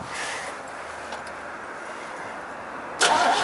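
A Chevy 5.0 engine cranks without catching: a muted, steady churning that ends in a sharper, louder burst of cranking.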